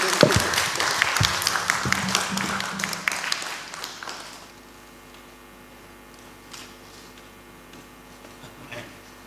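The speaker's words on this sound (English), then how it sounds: "Another round of applause to Dr." Audience clapping after a talk on digital design, a burst of applause for about four seconds that drops off abruptly into a quiet room with a few faint taps.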